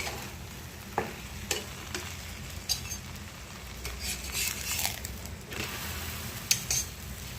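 Dal puri cooking on a griddle, a soft, low sizzle close by with occasional light clinks and scrapes of a utensil, and no voices.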